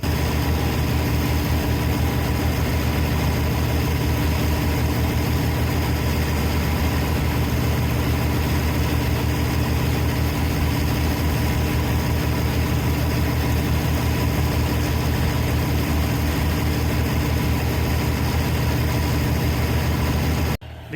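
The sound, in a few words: International Harvester 600 PTO-driven forage blower running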